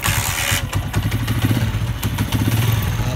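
A Honda TMX motorcycle engine fires up and settles into a steady, close, loud idle with rhythmic low thumping and some mechanical clatter.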